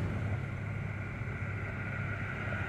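A car engine runs rough during an OBD-I diagnostic test, giving a steady, close, low droning hum with a slightly uneven texture throughout.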